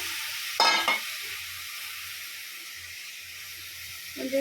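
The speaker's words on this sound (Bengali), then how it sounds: "এই দেখো ছেড়ে দিলাম আমি কড়াইয়ের মধ্যে" Malabar spinach and potato drop into hot oil in a wok with a loud burst of sizzling, then a steady close frying hiss that carries on with a few crackles and no talking.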